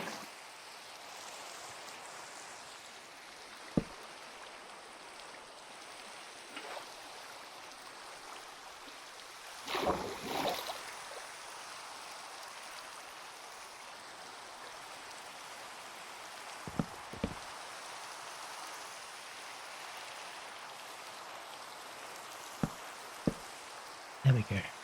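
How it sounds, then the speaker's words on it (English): Relaxing rain falling and pattering on surfaces, a soft, steady hiss heard close by, broken by occasional sharp taps and a louder rustle. "we can enjoy the relaxing rain sounds"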